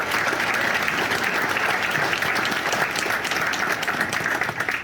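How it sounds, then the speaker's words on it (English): An audience at a community business awards event gives a steady, full round of applause, many hands clapping at an even level before it tapers off at the end. "Round of applause for all those businesses here represented tonight."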